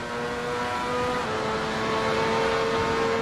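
A race car in the Assetto Corsa racing game drives past on the left, its engine note holding a steady harmonic drone that gradually climbs in pitch and loudness as it draws alongside.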